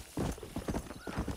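A horse arrives in Red Dead Redemption with a quick burst of close clip-clopping hooves and a snorting whinny, short and fairly loud.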